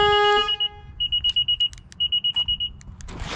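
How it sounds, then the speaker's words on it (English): An Acura NSX's car alarm chirps with a long tone, then repeated rapid beeping bursts in two sets, moderately loud with faint background noise. "Oh, I totally pressed the alarm by accident."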